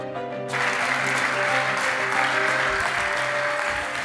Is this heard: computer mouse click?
no